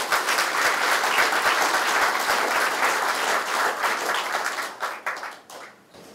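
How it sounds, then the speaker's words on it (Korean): Party members at a central committee meeting applauding, dense hall-wide clapping that holds steady, then thins out and fades near the end. "더 잘 하시라고 박수 한번 쳐드리십시오."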